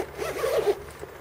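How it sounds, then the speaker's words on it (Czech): A zipper on an NGT Deluxe padded fishing reel case is pulled open in one smooth run, giving a close, steady rasping buzz with no talking. "Při rozepínání jde opět slyšet kvalita zipu."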